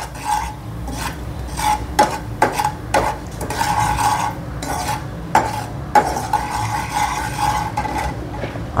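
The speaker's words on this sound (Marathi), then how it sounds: "आणि मिरपूड हे आपल्याला चांगलं व्यवस्थित मिक्स करून घ्यायचं आहे" Foxnuts being mixed with ground pepper in a pan with a spatula, producing repeated dry rasping scrapes and rattling rustles in an uneven rhythm, close and clear with no speech.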